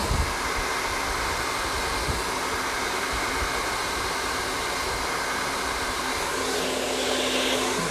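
Hair dryer blowing on curly hair, a loud steady close-up whoosh that runs continuously throughout without a break.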